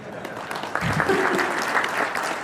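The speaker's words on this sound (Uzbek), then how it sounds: "Bitta qarsak bo'ladi, qo'shilmadi ko'pchilik" Applause from a small group breaks out and continues steadily, with a voice speaking underneath the clapping.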